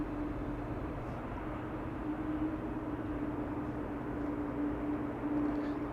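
An Airbus A300-600 lands at Amsterdam Schiphol Airport as a distant, steady jet rumble with a faint hum, unbroken for the whole stretch and with no talk.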